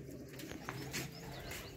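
Soft, low cooing of golden pigeons repeats in the background, with a faint flutter and a few light chirps.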